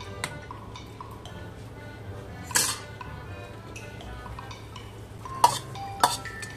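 Chayote pieces go into a metal pot of chicken tinola with clinks and clatters of a utensil against the pot, a few sharp knocks standing out over quiet background hiss.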